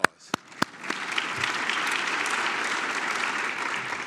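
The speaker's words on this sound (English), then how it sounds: "Give yourself a round of applause." At a space symposium opening ceremony, a few sharp, separate claps start things off, then a large audience joins in sustained applause that builds and holds steady.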